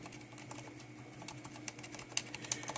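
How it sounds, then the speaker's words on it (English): Quiet typing on a Corsair Strafe RGB keyboard with Cherry MX Silent switches, soft muted keystrokes that start faint and grow into a quicker patter with a couple of sharper taps near the end. "Let me just type real quick."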